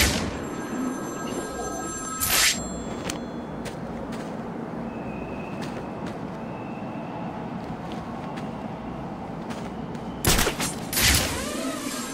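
A telephone rings in the Batman: Arkham City video game: short bright ringing bursts, one early and another pair later, over a constant low background hum.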